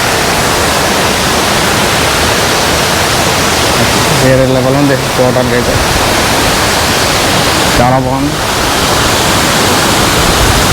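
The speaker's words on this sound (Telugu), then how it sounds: "ఇక్కడ చూడండి కొత్తపల్లి వాటర్ ఫాల్స్ అంతా" Kothapalli waterfall near Paderu roaring with rushing water, a loud, dense, unbroken wash close by, while someone talks over it in two short bursts.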